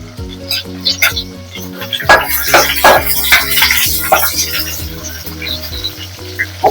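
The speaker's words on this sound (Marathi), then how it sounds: "थोडा शेतवाली लसूण थोडी परतवते तेला आणि ही मिरची टाकून घेतली जरा" Garlic and green chili sizzle in hot oil while being stirred, loud crackling bursts over a steady hum, with sharp scraping clicks of a spoon against the pan and faint background noise.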